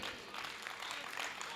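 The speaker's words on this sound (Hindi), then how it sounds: "जोरदार तालियां एक बार पूरे मंच के लिए।" Faint, distant applause comes from the audience at a Hindi kavi sammelan poetry gathering, a brief, soft wash of clapping with a hint of voices mixed in.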